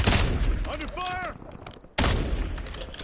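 Burst after burst of close, loud gunfire in a Call of Duty Black Ops 7 Warzone battle royale match, briefly cut off, then resuming. A voice speaks over the shooting partway through.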